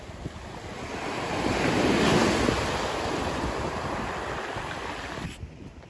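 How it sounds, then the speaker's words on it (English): Ocean waves wash onto the beach shore of Cape Breton Island, a broad steady roar of surf with wind noise that swells and eases, cutting off near the end. "Beautiful, beautiful day here on the shores of Cape Breton Island."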